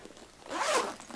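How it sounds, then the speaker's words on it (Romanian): A zipper on an Oriflame backpack is pulled once, close and fairly quiet, giving a short rasping zip of about half a second. "Și mai are un fermoar aici"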